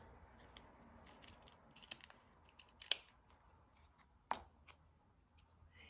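Scissors trimming the edges of a paper specimen card for a handmade journal, a few soft snips with two sharper cuts standing out, close and quiet with no talking.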